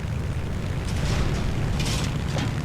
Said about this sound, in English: One shot from AA, and I'm on fire.